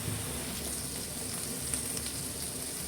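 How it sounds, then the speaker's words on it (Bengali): Spice masala of cumin powder, coriander powder and salt frying and being stirred in a pan for a fish curry with bilimbi, giving a steady continuous sizzle with faint scraping, close and even throughout. "মশলাটা নেড়ে চেড়ে কষায় নিব।"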